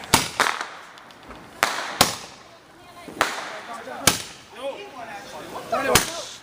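Fireworks and Roman candles going off outdoors at an Independence Day gathering, a string of sharp loud cracks and pops at irregular intervals, close by, with people talking and shouting between the bangs.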